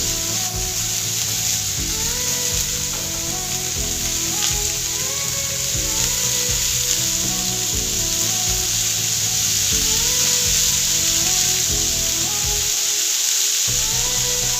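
Vegetables sautéing in a pan give a steady, continuous sizzle and hiss that runs throughout, sitting under prominent background music.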